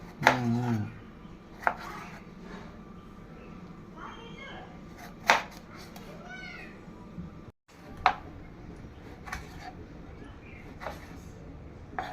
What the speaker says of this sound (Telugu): టమాటాలు ఇలా కట్ చేసుకోవాలి